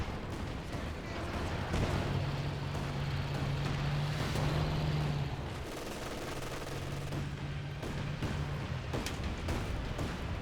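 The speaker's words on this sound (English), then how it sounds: "That's Warfare Barrage or Land Mattress Barrage there" Land Mattress rocket barrage in the World War II strategy game Company of Heroes 2, a continuous roar of launches and blasts with a droning engine-like hum underneath, steady and dense throughout.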